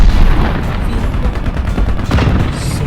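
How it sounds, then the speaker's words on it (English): Anti-air tank machine gun firing in War Thunder Mobile, a steady dense stream of rapid shots with booming low rumble throughout, loud and continuous with no talk. "So yeah, it does actually have a machine gun."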